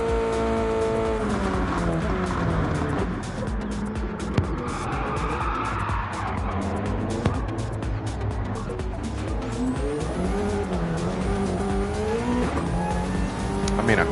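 A Subaru BRZ races in a driving video game, its engine droning and shifting pitch continuously with tire squeal and skids, loud and steady under a talking voice.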